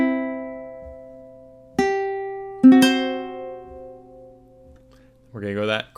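Ukulele plays measures 17 to 20 of a song, a few sparse plucked notes and strums left ringing, with a short hum or sung sound near the end.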